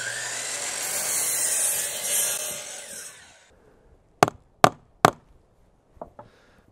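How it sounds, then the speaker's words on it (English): A chop saw cuts wood blanks into circles for a wasp trap. A loud, whining cut runs for about three seconds and stops, then several sharp knocks and taps follow close by, with no talk. "So we're gonna use this chop saw and do the best we can."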